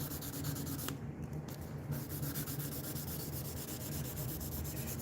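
Close, steady rubbing of 1200 grit sandpaper by hand, a continuous even scratchy hiss with a brief pause near the start.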